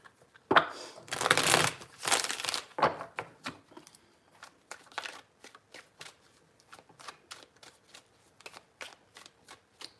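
Tarot cards are shuffled by hand in close, crisp riffling bursts, first a long dense flurry and then a run of short separate flicks and taps, with no talk.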